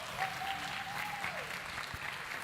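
An audience claps steadily to welcome a speaker at an orientation for new regional and international students, with a broad, continuous wash of applause and a faint tonal whistle partway through.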